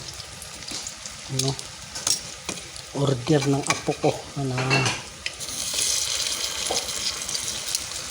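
Steady frying sizzle of bananas in oil for banana cue, with occasional stirring and utensil clinks, while people talk over it.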